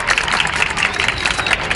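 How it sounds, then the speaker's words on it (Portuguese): A crowd applauds at a band gathering after a performance, steady bright clapping from many hands at moderate distance, continuous throughout. "Mais palmas, gente."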